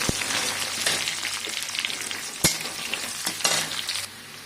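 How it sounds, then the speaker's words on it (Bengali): Chopped onions and ginger frying in hot oil in a pan, a loud continuous sizzle with occasional sharp clacks and scrapes of stirring, no talk. "আদা কুচে দেওয়া হয়েছে, পেঁয়াজ কুচিগুলো দিয়ে দিচ্ছি।"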